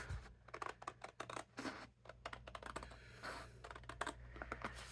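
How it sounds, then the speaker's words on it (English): Scissors cutting through card for a three-step craft card, with rapid clustered snips and crisp crackling as the blades close, close-up and busy, with no talk. "Cut that big piece off and follow."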